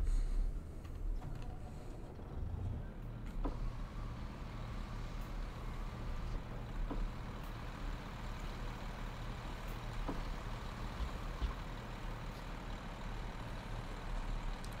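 A heavy truck engine in American Truck Simulator drones steadily at a low pitch, with faint clicks and taps scattered on top throughout.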